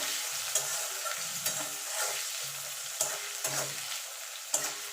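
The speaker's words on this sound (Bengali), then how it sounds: "এবার পেঁয়াজটাকে একটুখানি হালকা করে ভেজে নেব" Chopped onion frying in a pan while being stirred, a continuous close sizzle broken by about six distinct spatula scrapes and knocks at irregular intervals, no talking.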